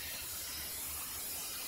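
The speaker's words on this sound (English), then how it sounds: "As you can see in the video, more steam is being generated." Arctic Steamer ice dam removal steamer giving off a steady, broad hiss of steam at full operating temperature, continuous and fairly loud with a faint low rumble underneath, no voices.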